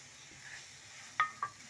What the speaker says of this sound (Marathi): आता मी मीडियम साईजचा टमॅटो एक कट करून याच्यामध्ये घाला.